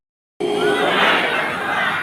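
An audience at a West Papua governor's inauguration breaks into applause after a moment of silence, and the dense, steady clapping and murmuring crowd noise continue loudly to the end.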